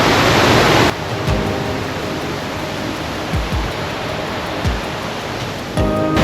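A steady, dense rush of Fowleys Falls at Glenainiff, Ireland, roars throughout, with a few low thumps and knocks breaking through the constant wash of foaming water.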